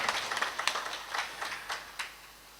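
A Bhagavat katha audience claps to encourage an organiser. The clapping is faint and distant, a loose run of separate claps rather than a full roar of applause.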